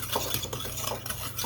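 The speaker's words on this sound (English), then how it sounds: "All you want to do is just stir to combine" Spoon stirring banana bread batter in a bowl, with soft repeated scraping and clinking strokes close by, steady throughout with no talking.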